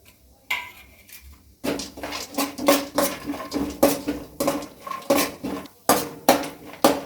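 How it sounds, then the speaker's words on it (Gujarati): Dry fruits roast in a teaspoon of ghee over a low flame while a spoon stirs them, making rhythmic metallic clinks and scrapes against the pan, roughly two per second, loud and close. "તો હવે આપણે ડ્રાય ફ્રૂટ શેકી લેશું ઘીમાં।"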